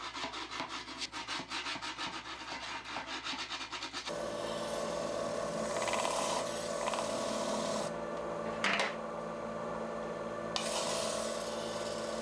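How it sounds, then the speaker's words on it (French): Sustained rubbing and scraping as the final lacquer coat of Japanese Wajima-nuri lacquerware is polished with a sanding stone or a piece of charcoal; a steady, close abrasive sound, rougher and more rhythmic at first, then smoother, with no talk. "on procède au polissage de la dernière couche avec une pierre à poncer ou avec un morceau de charbon"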